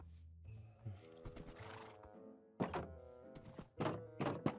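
A horse in Minecraft, giving short neighs and thunking hoof and clop sounds in quick irregular bursts, close and moderately loud.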